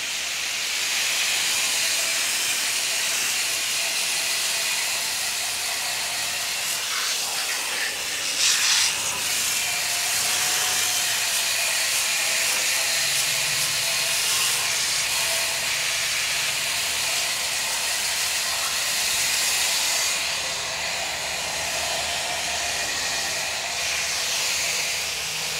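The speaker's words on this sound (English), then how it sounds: "Look at how it's steaming." Steady, loud hiss of steam rising off an air conditioner unit as it is rinsed during maintenance, continuous and even throughout with no talking over it.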